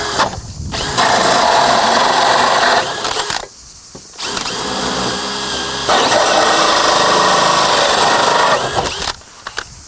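A power drill whines loudly in long sustained bursts, stopping briefly between runs, as a hole saw grinds through wooden roof boards.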